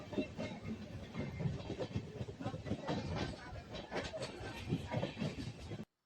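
A train runs along the rails near Surendranagar, Gujarat, giving a steady rolling rumble with a dense clickety-clack clatter throughout, fairly close, before it cuts off abruptly at the end.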